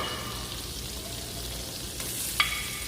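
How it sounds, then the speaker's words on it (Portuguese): Butter sizzles steadily in a pan while a meat filling is sautéed, a close continuous frying hiss with one small clink near the end and no talk. "a gente vai refogar o nosso recheio, no caso a carne"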